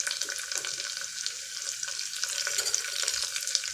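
Onion with carrot, beans, green chillies and green peas sautéing in a pan for millet kitchadi, a bright continuous sizzle with crackling pops and occasional scraping stirs, close and steady.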